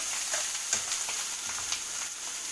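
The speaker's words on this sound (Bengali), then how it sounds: "আর এই বেগুন পেঁয়াজ কালো জিরে ফোড়ন দিয়ে ভাজা হচ্ছে।" Eggplant and onion frying in oil with black cumin seed tempering, a steady bright sizzle with light crackles and occasional stirring scrapes, close and continuous.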